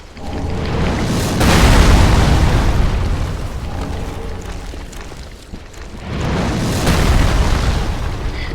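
Giant hurling big spears in Dark Souls 3, heavy booming impacts landing twice, a long rumbling blast near the start and another about five seconds later, loud and close.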